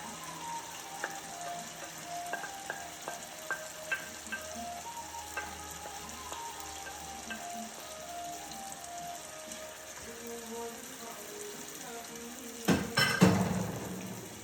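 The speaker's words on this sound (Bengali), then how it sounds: "এবার মাংসটা ঢেলে দিতে হবে।" Marinated chicken sizzling in a hot pan as it is stirred, a steady close frying hiss with light scraping clicks and a louder burst of sizzle near the end; a faint tonal hum runs underneath.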